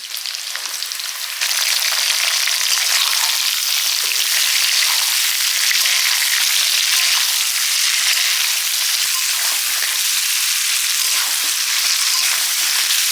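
Potato and onion frying in oil in a pan, a loud, continuous, close sizzle that starts abruptly and holds steady throughout, with faint stirring noises beneath.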